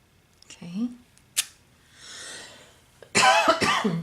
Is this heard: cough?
yes